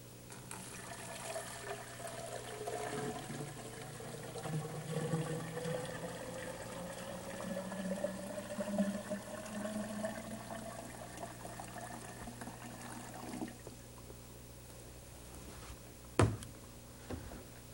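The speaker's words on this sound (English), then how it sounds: "we'll put some water in the container, and we've colored the water to make it easier to see" Colored water poured into a container, a continuous close splashing and filling sound rising gradually in pitch over many seconds, ending with a short sharp knock.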